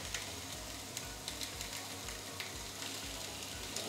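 Food sizzles and crackles steadily in a frying pan on a home stovetop, a quiet continuous hiss with no talking.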